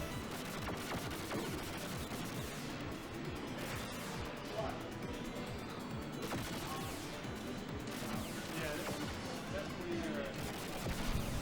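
Grenade blasts and gunfire in the arcade game Shadow Dancer Shinobi, a dense continuous barrage of crackling shots and booms at steady level, with a voice talking over the game sounds.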